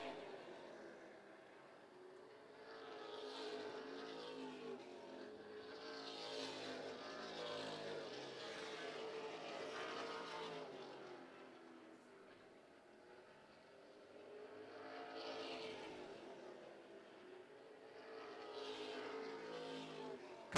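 Race cars lapping a track in a weekly race, their engines a continuous loud roar that swells and fades as the pack passes, with a couple of stronger surges.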